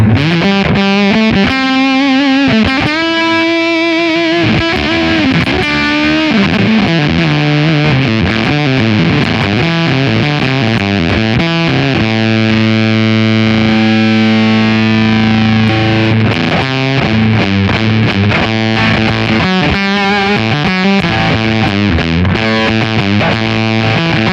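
Electric guitar played through an Anasounds Feed Me fuzz pedal, a continuous thick distorted tone with shifting chords and sustained notes, loud and alone with no talk.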